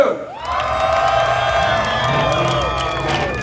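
A crowd at a Mustang car show cheers and whoops loudly together, a sustained burst of shouting and hollering that holds steady for a few seconds.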